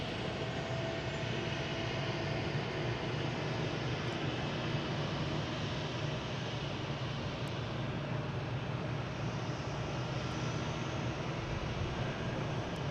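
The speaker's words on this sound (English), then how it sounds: "Now we got a JetBlue coming in from San Francisco" A JetBlue Airbus A321 airliner arriving from San Francisco at Boston Logan makes a faint, continuous jet rumble and whine that stays even throughout, with no voices.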